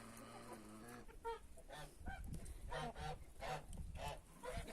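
Chickens and roosters calling from close range on a farm, a string of loud squawking honks and clucks repeating irregularly over a low rumble of farmyard noise.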